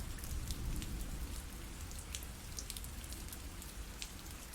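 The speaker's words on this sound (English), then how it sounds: "the rain's coming down hard" Heavy rain pours steadily onto a deserted city street in the game Glory Hounds, a dense, even hiss with scattered droplet patter and no voices, holding constant for a few seconds.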